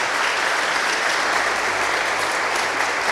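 Church congregation applauding, a loud, dense and continuous wash of many hands clapping that stays even from start to finish.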